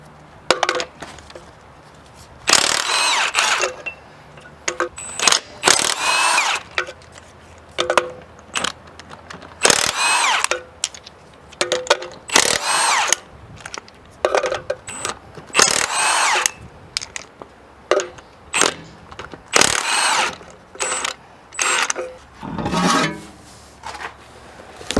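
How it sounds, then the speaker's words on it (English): Tools work to remove a car's front wheel, with repeated bursts of a power tool whirring alongside metallic clinks, rattles and jangling parts, loud and close with short pauses between. "so we want to go ahead and take the wheel off"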